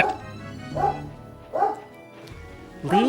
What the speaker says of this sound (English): See, even my dog agrees if you hear in the background.